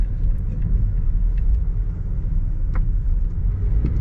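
Steady low rumble of a car driving through Taipa, Macau, after Super Typhoon Saola, with a continuous road and engine drone heard from inside and a few faint clicks and knocks.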